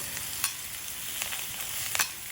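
Spicy tuna steaks sear in a hot pan with a steady, bright sizzle heard close up, broken by a few brief pops and scrapes.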